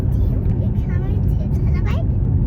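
A car drives along to a park, its low, steady engine and road rumble filling the cabin while people talk over it.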